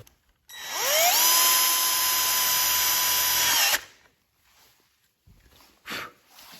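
A cordless drill driving self-tapping screws into a Harley motorcycle LED headlight mount whines up to a steady high-pitched spin for about three seconds, loud and close, then stops, followed by faint handling noises.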